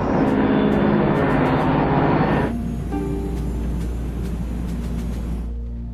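A Boeing 727 airliner in flight gives a steady, loud engine roar that drops to a lower, smoother drone partway through, continuous with no speech.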